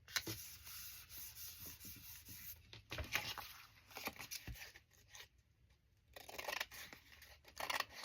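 Scissors trim around a piece of cardstock ephemera, producing quiet close snips and papery rubbing in an irregular rhythm, soft and unaccompanied by speech.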